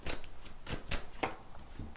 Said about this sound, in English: I'm just going to shuffle these tarot cards